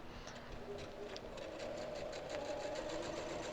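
A domestic sewing machine stitches free-motion quilted feathers with a faint, steady motor whir and a light, even run of needle ticks, alone with no talking.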